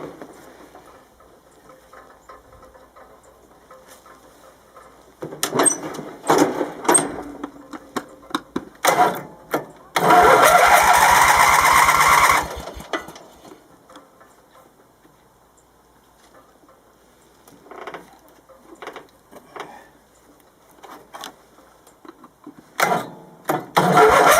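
A Briggs and Stratton 18HP engine on a Yardman mower turns over on a rusty, dry starter: a loud grinding crank burst of about two seconds amid scattered clanks and handling noises in a workshop.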